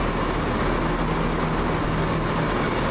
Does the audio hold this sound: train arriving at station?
yes